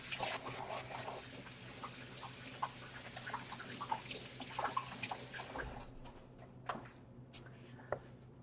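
Water being added to a dye bath, a steady pouring splash that stops abruptly partway through, followed by scattered small drips and clinks in a quiet room.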